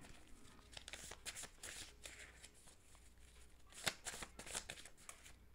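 Tarot cards are shuffled by hand at close range, giving soft, irregular riffling and flicking bursts, quiet overall, with one sharper snap near the end.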